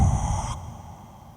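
An enraged bull breathes heavily as a story sound effect: one loud, forceful snorting exhale that cuts off sharply and fades into a low rumble.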